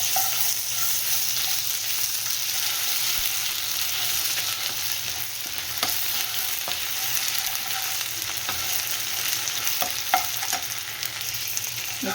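Ginger garlic paste frying in a pan with whole spices like cinnamon, cloves, cardamom and bay leaf, a steady close sizzle with faint stirring clicks throughout.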